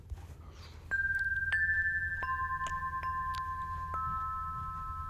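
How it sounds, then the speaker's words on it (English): Shenandoah Melodies wind chimes, five metal tubes struck by a wooden striker, several clear ringing tones sounding one after another and sustaining as they overlap, close and alone. "Last up is Shenandoah Melodies, which is basically Corinthian bells, but with 5 tubes and a wooden striker"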